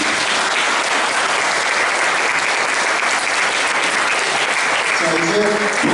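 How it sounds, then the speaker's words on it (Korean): A dense, steady wash of applause fills a hall at a September 2018 book launch honouring teacher Yu Gi-chang, loud and unbroken throughout, with a faint tonal sound surfacing near the end. "36년간 거침없이 달려오신 유기창 선생님께 다시 한번 뜨거운 박수를 부탁드립니다."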